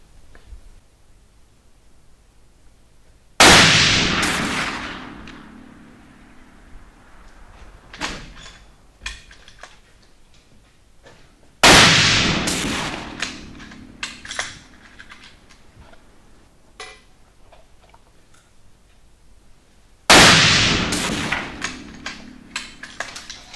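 A CZ 557 rifle chambered in .30-06 Springfield fires three loud, sharp shots at spaced intervals, each blast decaying into a ringing echo, with faint clicks and handling noises between shots.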